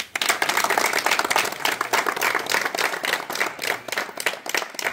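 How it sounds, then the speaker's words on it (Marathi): An audience claps in welcome at a National Skill Day gathering, a dense, lively patter of many hands that stays loud and close for the full stretch. "आम्ही आज राष्ट्रीय कौशल्य दिन या ठिकाणी टाळ्या वाजवून स्वागत करत आहोत"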